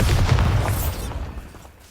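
A Bombarda spell explosion in Hogwarts Legacy, one loud booming blast with a rumbling body that decays over about two seconds.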